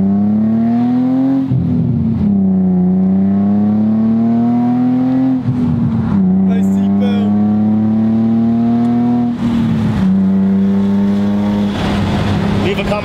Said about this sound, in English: Leave a comment down below if y'all like the exhaust or not.